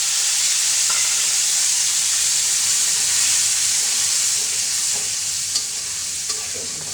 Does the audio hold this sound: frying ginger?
yes